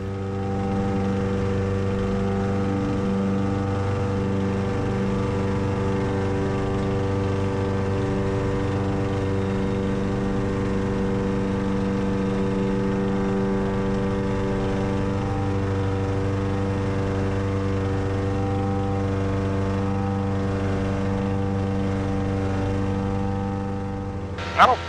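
A Lake Buccaneer amphibious airplane's engine drones loud and steady during takeoff from water, a continuous sustained hum with no talk, ending with a short bump.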